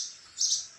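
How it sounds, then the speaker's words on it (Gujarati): Small sparrows chirping on a pre-monsoon morning, a short bright twitter that swells briefly in the middle and then fades, close and clear with no talk. "ચકલી ને નાની નાની ચકલી મસ્ત બોલે"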